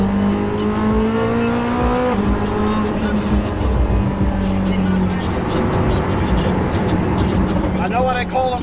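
A Koenigsegg Jesko sports car's engine revs and roars loudly, pitch climbing and falling through gear changes over steady road noise, with voices and music faintly underneath.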